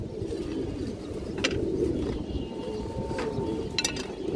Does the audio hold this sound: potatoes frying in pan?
no